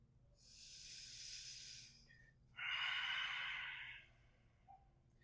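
Two long, airy exhales during a yoga forward bend, the first soft and breathy, the second louder and rougher, close to the microphone with a short pause between and no talking.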